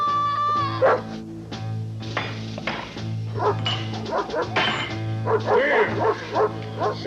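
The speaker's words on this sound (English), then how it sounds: "Here, doggy, doggy." A dog in a 1995 family film barks and yips repeatedly at close range, the loud bow-wows mixed with whining whimpers in an uneven rhythm.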